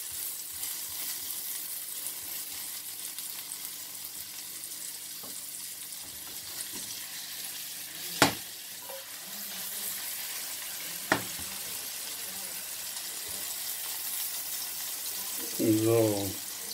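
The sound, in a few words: omelette with onions and tomatoes frying in pan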